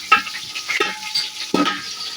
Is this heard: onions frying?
yes